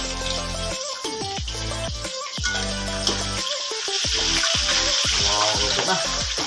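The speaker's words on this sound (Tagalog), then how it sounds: "baliktarin natin yung ating piniprito." Fish frying in a pan crackles and sizzles steadily while the pieces are flipped, with several knocks and clatters of the turner against the pan breaking through the hiss.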